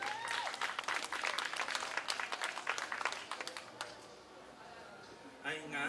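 An audience claps to welcome a performer at a music event. The applause is fairly faint and fades out after a few seconds, and a voice begins speaking near the end.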